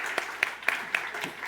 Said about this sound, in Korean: 우리 주님께 영광의 박수 드립니다.